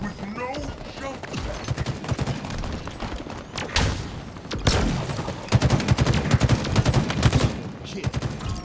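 Rapid machine gun fire in the Halo video game, a Big Team Battle match, bursts of dense automatic shots building louder toward the end with booms mixed in and faint game voice underneath.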